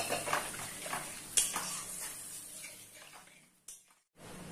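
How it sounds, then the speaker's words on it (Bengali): Water is poured from a vessel into a spice mixture in a kitchen pot while making a curry, a close, splashing trickle that tapers off, with a brief clink of utensils. "এবার একটু জল দিয়ে দিচ্ছি, যেটা মশলা করেছিলাম ওতেই আমি জল দিচ্ছি।"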